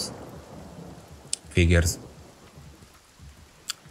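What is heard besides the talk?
rain and thunder from rain scroll in video game Divinity: Original Sin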